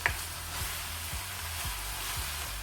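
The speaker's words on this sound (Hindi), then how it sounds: "कीमे की अच्छी तरह से भुनाई हो चुकी है" Minced meat keema frying in its own released fat with no added oil, giving a steady close sizzle broken by a few soft stirring scrapes.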